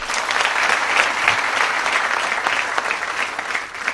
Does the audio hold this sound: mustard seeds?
no